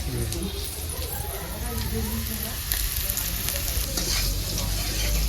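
Potatoes frying in a pan in a home kitchen, a loud, dense sizzle filling the space close up, with a voice murmuring over it and a few faint clinks.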